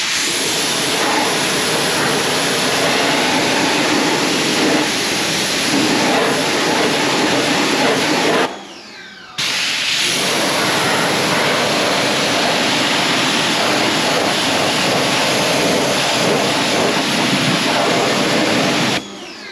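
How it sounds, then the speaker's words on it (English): A strong water spray blasting SONAX wheel cleaner off a car wheel, a loud, steady hissing roar close by that cuts out briefly partway through before resuming. "I'll go ahead and blast off the wheel"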